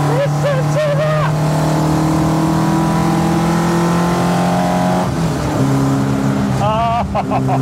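A 1972 BMW 2002 drones loudly from inside the car as it is driven hard. Its revs climb and sweep through shifts over a constant engine roar.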